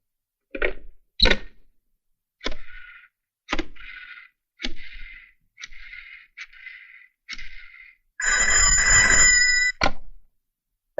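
A telephone rings in separate repeated bursts of trilling bell, each followed by a pause, then one longer, louder ring near the end. No one speaks over it.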